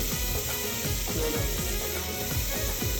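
Oysters added to hot frying masala sizzle and crackle steadily, a loud continuous hiss with faint stirring taps through it.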